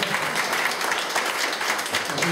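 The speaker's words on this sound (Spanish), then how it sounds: "Un aplauso a Jesús" A church congregation claps in a dense, continuous burst of applause, fairly soft and steady from start to end.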